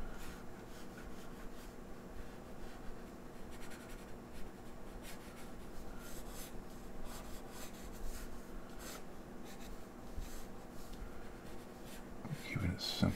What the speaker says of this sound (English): let's try and draw our figure here